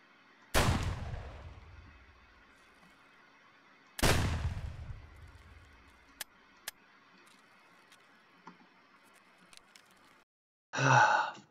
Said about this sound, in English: I took the shot, got the kill, and then the NPC that was next to him didn't kill me, but shot me